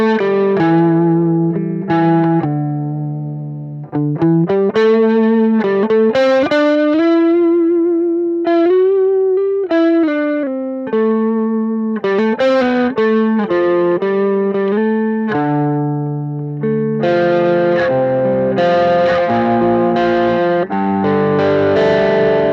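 An electric guitar runs through a Peavey Rage 108 practice amp at high gain for black metal tones, with heavily distorted sustained chords and single-note lines, loud and upfront with no talking.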